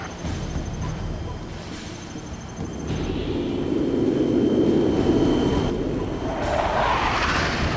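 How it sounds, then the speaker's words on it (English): Jet engine roar of MiG fighter aircraft in the strategy game Command & Conquer Generals, a steady loud rumble that swells midway and rises into a whooshing high pass near the end, with game sounds layered over it. "the firestorm from our jet fighters will answer the GLA's futile threats"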